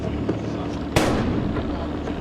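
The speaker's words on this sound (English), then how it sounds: "Now the device is isolated and destroyed with the help of the squad's robot." A bomb squad robot destroys a suspected bomb device, heard as one sharp, loud blast about a second in, followed by a rolling decay over a steady background rumble.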